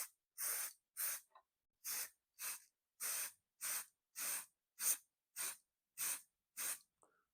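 Short bursts from a spray paint can coat a Tamiya TT01e RC car body shell, about a dozen evenly spaced hisses, each roughly half a second long, fairly quiet and with no voices.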